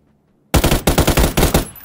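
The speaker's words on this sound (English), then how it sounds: "Gunshots nearby." Rapid machine gun bursts from the battle royale game PUBG, about seven loud, close shots in quick succession after a moment of silence.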